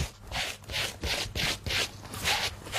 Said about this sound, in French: Donc on brosse tout le soulier